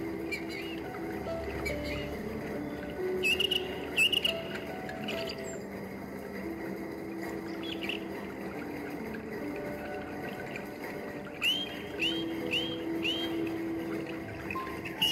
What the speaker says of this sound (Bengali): এই ফাউন্টেনের সাউন্ড